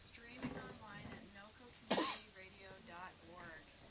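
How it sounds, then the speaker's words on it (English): In a community radio studio at WVNC-LP Bethlehem, someone gives a single sharp, throat-clearing cough midway through quiet, close-miked talk on air. "if you just heard that cough"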